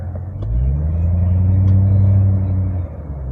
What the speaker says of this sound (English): Yeah, it's a Murcielago